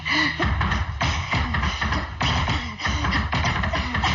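Rhythmic tapping of dance steps on a floor, a steady series of quick percussive taps with music playing underneath.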